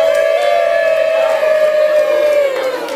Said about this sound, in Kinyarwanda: nimumumpera impundu mw'ababyeyi